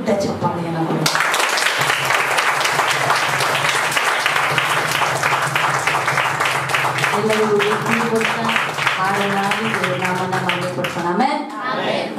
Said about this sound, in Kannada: ನಾವು ದೇವರಿಗೆ ಒಂದು ದೊಡ್ಡ ಚಪ್ಪಾಳೆಯನ್ನು ಕೊಡೋಣ